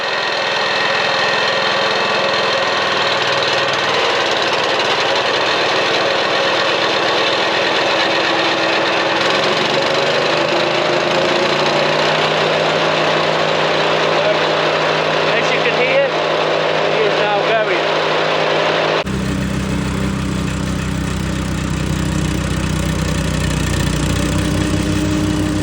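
A Hansa C7 wood chipper's engine idles while warming up, a steady mid-pitched mechanical drone close by, shifting tone partway through. A voice speaks over it.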